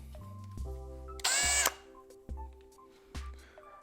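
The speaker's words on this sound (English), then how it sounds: "we're gonna drill through right here with our pilot hole" A power drill whirs in short bursts with a louder high-pitched grinding burst as it bites through a door drilling a pilot hole, then stops and restarts in brief pulses.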